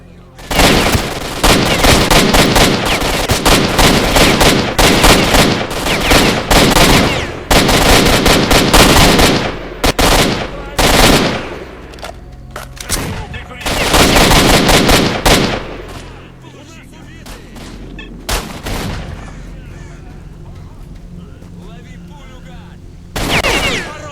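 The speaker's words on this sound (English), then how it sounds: "Why am I firing single shots?" Gunfire in the video game S.T.A.L.K.E.R. Shadow of Chernobyl: loud, dense bursts of shots in rapid volleys, broken by short pauses, with a few separate single shots toward the end.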